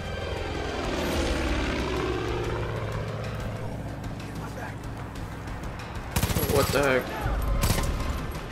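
A propeller airplane rolls down a runway in the video game Far Cry 5, its engine droning steadily and loudly with wavering, rising tones, then sharp crackling bursts break in near the end.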